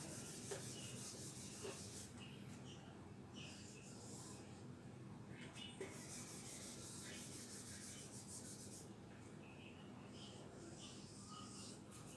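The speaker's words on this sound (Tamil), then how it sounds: "இதை மீண்டும் ஒரு முறை எழுதி காட்டுறேன்." Pen writing on paper while forming letters of the alphabet, a faint, close scratching that comes in short strokes and pauses, quiet and without speech.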